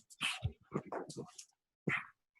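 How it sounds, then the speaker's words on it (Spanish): Several dogs barking at home, a quick close burst of barks and yips followed by one more bark after a short pause. "déjeme callar a mis perros"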